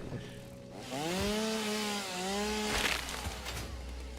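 A chainsaw in the video game Satisfactory whines and revs as it cuts into a tree, its pitch rising and dipping across several seconds, loud and close, with no talking.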